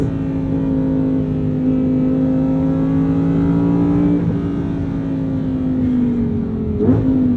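Lamborghini Huracan Sterrato engine while driving, a loud steady drone with strong harmonics, pitch climbing gently under load, then dipping briefly before picking up again near the end.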